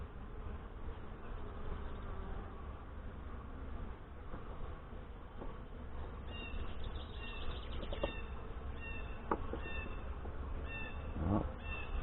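Honey bees buzzing during an inspection of a Saskatraz hive with a honey super in Northwest Wisconsin: a steady, close, dense hum runs the whole time, with a few brief higher whines rising above it.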